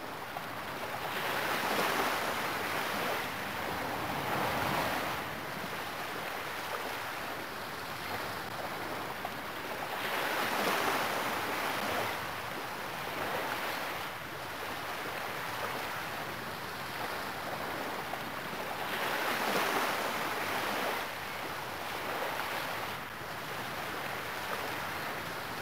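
Surf rolls and washes in swells on a game beach in Dead or Alive Paradise, a steady broadband roar that rises and falls every few seconds with a soft wind-like hiss, no voices.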